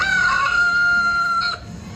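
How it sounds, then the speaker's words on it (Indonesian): A rooster crows loudly and close by, one long, strained call that holds steady, then drops off into faint background noise. "ayam itu berkokok dengan sekeras-kerasnya"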